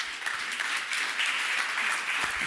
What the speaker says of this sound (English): a round of applause for our 2 scientists